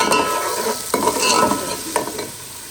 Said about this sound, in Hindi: अदरक और प्याज जो है वो फ्राई हो चुका है